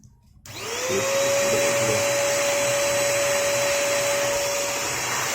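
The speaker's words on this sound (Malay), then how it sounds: "So kita gunakan sini vacuum." A vacuum cleaner starts up and runs with a steady loud whine and airy hiss as it sucks dust from the sensor holes of a Philips FC87 robot vacuum, close and continuous.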